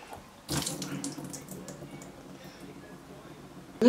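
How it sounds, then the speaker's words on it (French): Vinegar poured into a dish while cooking fish, a short splashing gush of liquid close by that then dies to faint trickles, with a brief clatter at the end. "Et ensuite, je vais verser le vinaigre."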